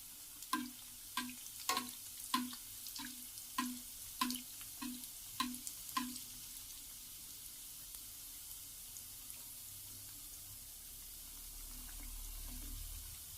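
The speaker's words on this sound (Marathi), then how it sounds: "खरपूस रंगावर तळून घ्यायचे मस्त" Bread rolls deep-frying in hot oil, a run of crisp, regular sizzling pops and spatters close by over the first six seconds, then fading into a low steady hiss with no talk.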